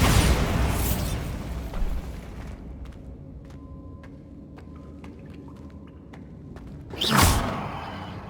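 A Confringo fire spell explodes in the Hogwarts Legacy video game with a loud broadband burst, then a low rumbling tail and a few scattered sparkling ticks. A second sharp, loud blast follows a few seconds later.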